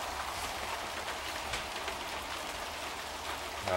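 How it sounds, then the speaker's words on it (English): Rain falls steadily on a surface outdoors, a soft, even patter with scattered drops and no voices. "So, rainy day."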